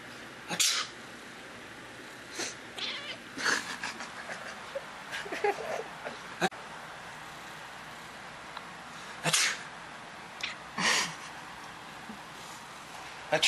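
A person sneezes several times, short sharp bursts spaced irregularly over a quiet room, with a cat's faint squeaks between them.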